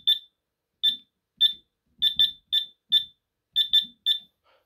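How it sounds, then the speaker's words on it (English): A Hochiki fire alarm system sounds during a system test, giving about a dozen loud, short, high electronic beeps in an uneven rhythm, some in quick pairs, with faint low knocks between them. "So we're gonna test the fire alarm system, the Hochiki."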